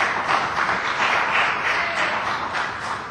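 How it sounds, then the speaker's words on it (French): Sustained applause fills a chamber of the Quebec National Assembly, many hands clapping at once in a dense, even wash of sound. "je remercie les applaudissements du parti ministériel"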